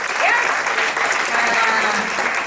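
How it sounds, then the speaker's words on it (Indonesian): Steady audience applause fills a business presentation hall for a Prudential Indonesia agency, a dense, even wash of many hands clapping for the whole stretch without a break. "tepuk tangan buat bisnis ini ya"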